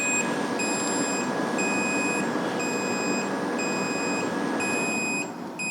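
A Bluetti EB200P portable power station beeps its overload fault alarm while running a 2700-watt air fryer, giving a steady run of evenly spaced electronic beeps over a constant hum.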